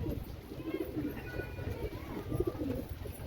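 Domestic flying pigeons coo in soft, low, repeated calls close by, with a steady ambient hum underneath and no talking.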